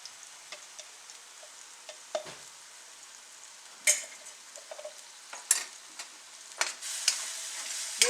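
Eggplant mash (olo) frying in a pan gives a soft steady sizzle with scattered pops and the scrape of stirring, faint and close, with no talking.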